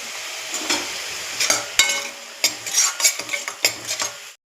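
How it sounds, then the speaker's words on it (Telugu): Onion paste frying in a pan for Telangana fish curry, a steady sizzle broken by repeated scraping and clinking of a spatula stirring against the pan, close and fairly loud, with no voices. "ఇది వేగాక ఉల్లిపాయ పేస్ట్ వేసి కొంచెం ఫ్రై చేసుకోవాలి"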